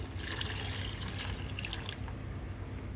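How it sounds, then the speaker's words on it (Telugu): Continuous splashing rush of water being poured into a curry, close and steady, tapering off into a quieter trickle at the end. "ఇప్పుడు కొంచెం వాటర్ యాడ్ చేసుకోవాలి"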